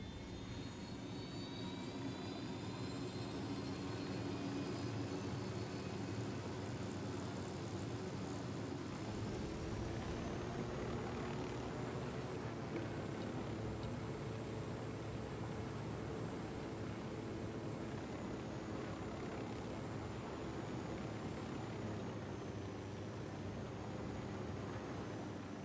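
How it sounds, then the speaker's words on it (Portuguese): Steady, loud helicopter rotor and engine drone in a video game fills the whole stretch, a continuous roaring whine with no pauses and no voices. "trouxemos o helicóptero"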